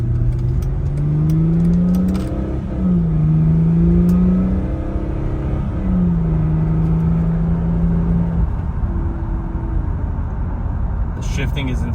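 A 2006 Mercedes SLK350 accelerates through several smooth gear shifts, its engine pitch rising and dropping repeatedly over steady road and cabin noise, heard from inside the car.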